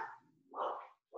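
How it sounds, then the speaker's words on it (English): Dogs bark indoors in the morning, a few short, sharp yips and barks in quick succession at moderate volume, with no voices between them. "Sorry, dogs are apparently crazy this morning."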